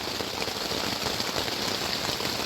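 Steady rain falling on a campsite along the Abel Tasman Coast Track in New Zealand, a dense, even patter drumming on surfaces without pause, close and fairly loud, with no voices.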